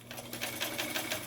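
A repaired 1976 Union sewing machine, converted from hand crank to a fitted electric motor, runs steadily, its needle ticking in a fast, even rhythm, close and alone with no talk.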